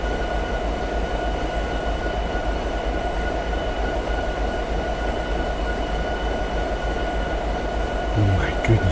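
Diesel train in the Train Simulator 2017 video game running steadily, with a continuous low engine rumble and rail noise throughout and a brief louder clatter near the end.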